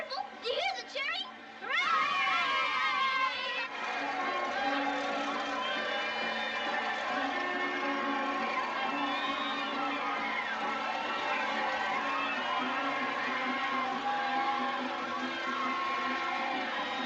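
A street crowd cheers and shouts continuously in a 1939 film scene, a dense, lively roar with children's voices mixed in, following a brief moment of speech at the start.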